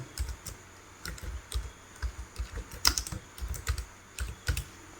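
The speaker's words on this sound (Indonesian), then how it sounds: "kita ketik nomor, kemudian tab, kemudian ketik pembina umum" Fingers type on a computer keyboard while a document is being written, producing close clicks in short irregular bursts with brief pauses between words.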